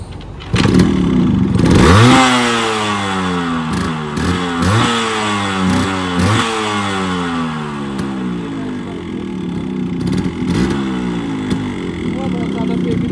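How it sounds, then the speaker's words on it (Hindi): A Yamaha RX100 motorcycle engine starts and revs repeatedly, sharp rising and falling blips over a loud, rough two-stroke idle, with voices talking nearby throughout. "मतलब बाइक के हिसाब से इसकी आवाज़ बहुत तेज़ है"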